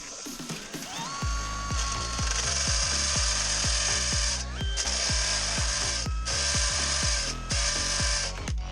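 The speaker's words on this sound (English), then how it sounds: "Grab our drill" A power drill whirs loudly and steadily, with a rapid ratcheting clatter as it drives in, pausing briefly a few times before spinning up again.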